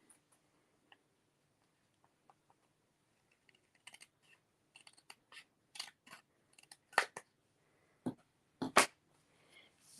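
Scissors trimming paper for a handmade book fold card: a few faint ticks at first, then a growing series of crisp, close snips that become louder and more frequent.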